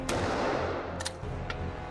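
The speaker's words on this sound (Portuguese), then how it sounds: "No estado de Nova York, eu tenho licença para disparar essa arma com toda a capacidade." A handgun fired in New York, sounding as sharp broadband cracks: one near 0.1 s, a pair near 1.0 s and another near 1.5 s, over steady low background noise with no talk.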